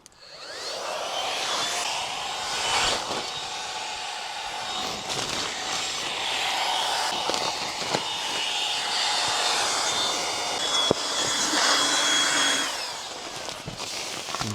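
An electric pump inflates an air mattress for a camp bed, giving a continuous loud whirring roar close by that holds steady for the whole stretch with slight shifts in pitch.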